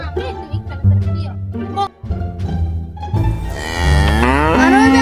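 A cow gives several loud, drawn-out moos close by, with people talking around it in between.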